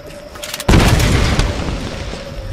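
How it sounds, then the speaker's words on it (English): A grenade explosion in Tomb Raider (2013) goes off with a sudden heavy boom after a quiet lead-in, followed by a loud rolling rumble and debris that slowly fades over the next couple of seconds. "A few grenades."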